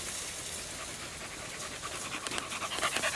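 A Podenco Andaluz hunting dog pants rapidly outdoors during a summer hunt in reed beds, a steady breathy rhythm that grows louder and more ragged toward the end, with no voices over it.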